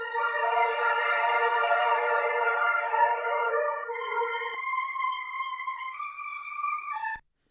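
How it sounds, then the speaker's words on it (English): Organ-like synth chords in a music production, sustained harmonic tones held steady, then shifting to higher, brighter chords before cutting off abruptly; no voices. "so these are like an organ kind of sound."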